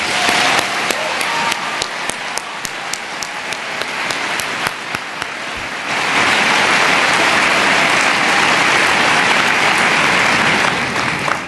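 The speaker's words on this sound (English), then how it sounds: "Please join me in giving Amy Goodman another round of applause." Audience applause at a 2017 MLK Symposium keynote lecture at the University of Michigan, honoring Amy Goodman: dense, sustained clapping from a large crowd, with scattered sharper claps early on and swelling to a fuller, louder roar of applause midway.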